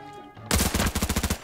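Rapid automatic gunfire in a first-person shooter video game, a loud burst of about ten evenly spaced shots coming right after a softer stretch of game music and background noise.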